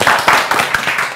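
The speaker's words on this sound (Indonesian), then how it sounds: "penonton, tepuk tangan Pak" A studio audience gives a brief burst of clapping, a dense wash of hands that pulses unevenly and stays loud and close for the whole moment without any talking.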